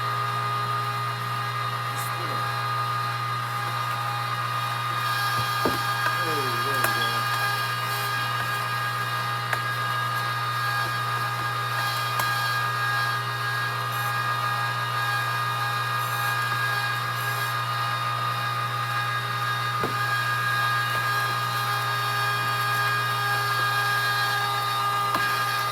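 A meat grinder runs steadily with a constant motor hum while grinding cold pork and fat during home pig processing, droning continuously and close, with a few faint clicks and brief quiet voices.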